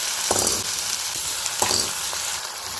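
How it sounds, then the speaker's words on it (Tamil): Dal and green chilies fry in a pan for a cabbage stir-fry, giving a steady close sizzle with a few brief stirring scrapes and no talk. "இப்போ இந்த பருப்பையும் சேர்த்து நல்லா வதக்கி வச்சுக்கலாம்."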